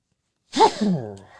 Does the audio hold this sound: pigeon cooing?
no